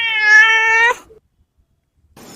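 A domestic cat gives one clear, loud meow lasting under a second, followed by near silence and a faint rustle at the end.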